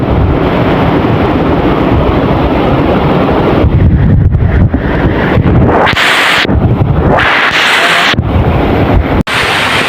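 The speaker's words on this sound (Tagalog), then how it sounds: "ang lakas po mga idol ang lakas ng ulan" Heavy rain roars steadily during a vegetable harvest as a dense broadband wash, loud and close, with no voices, sometimes sounding like gusty wind buffeting the microphone.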